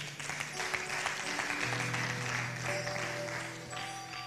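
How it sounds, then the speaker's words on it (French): Church congregation applauding together, a warm, continuous clapping that holds for several seconds with faint organ or keyboard tones underneath, then eases slightly at the end. "Acclamons le Seigneur."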